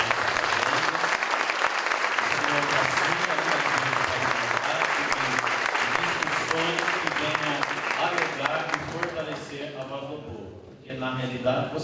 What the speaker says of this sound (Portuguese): eu convoco você de forma democrática a aplaudir essa atitude que essa casa, juntamente com vocês, vem tomando aqui nessa noite